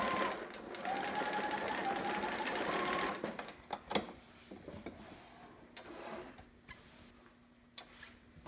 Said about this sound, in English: And then I'm going to backstitch just a smidge a couple times.